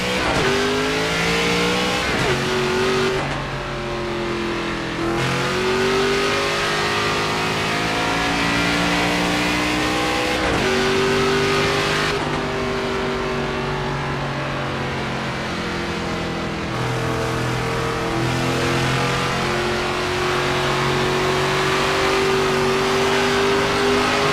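NASCAR stock car in a NASCAR 25 qualifying run, engine revving hard through repeated upshifts, each rising pitch sweep cut by a brief dip, loud and continuous with no talking.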